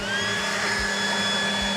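A Ryobi 40-volt turbo cordless leaf blower runs at full power, a loud, steady whirring roar with a high motor whine that holds constant, close up and with no other sounds.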